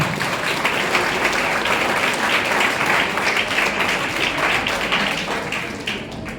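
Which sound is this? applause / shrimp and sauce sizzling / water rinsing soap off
applause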